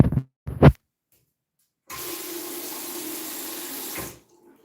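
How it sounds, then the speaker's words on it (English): Water gushes steadily from a tap in a brand-new Korean apartment, a strong even rush lasting about two seconds before cutting off, preceded by a couple of short handling knocks. "The water pressure here in Korea is great."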